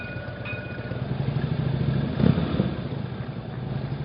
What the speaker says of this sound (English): Complete with a motorcycle escort, just like opening day.